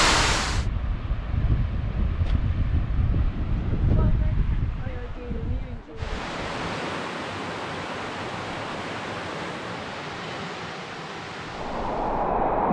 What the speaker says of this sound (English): behind me, Fortescue Falls.